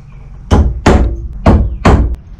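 Four heavy, booming thuds land in a steady rhythm at close range as 3-inch torque screws are driven to anchor the gables of a dovetail log cabin, each one a loud impact with a short decay.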